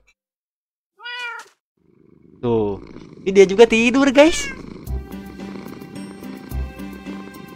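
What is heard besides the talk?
cat meowing and purring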